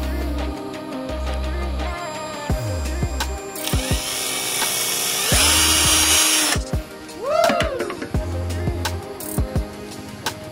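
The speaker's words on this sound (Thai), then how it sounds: "แล้วก็เจาะครับ" A power drill bores into a rubber tree, its motor whining up and down in repeated bursts with pitch sweeps as it starts, loads and stops, loud and close.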